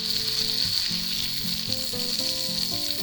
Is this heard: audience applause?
no